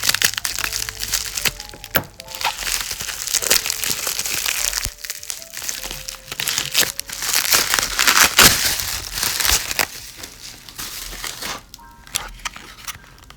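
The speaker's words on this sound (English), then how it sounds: "Let's just cut through this bubble wrap." Bubble wrap around a small UV LED nail lamp is cut through and handled, producing continuous loud crackling, crinkling and popping close up.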